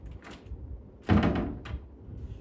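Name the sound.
cabinet door latch closing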